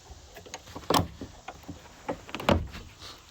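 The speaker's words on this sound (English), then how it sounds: "I'll just open the main door" The main door of a chicken coop is opened, giving two sharp wooden knocks and rattles about a second and a half apart, with softer scrapes and creaks around them, close by.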